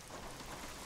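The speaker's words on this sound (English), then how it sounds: "Let me turn off the rain." Steady rain falls in the Assetto Corsa racing game, a faint, even hiss of rain with no speech, heard over a short stretch.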